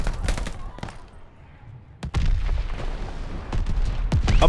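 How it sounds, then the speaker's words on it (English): Mortar fire and gunfire in a video game: rapid bursts of automatic shots and heavy booming impacts, loud and close, with a quieter lull before the firing resumes. "Mortars incoming! Get out!"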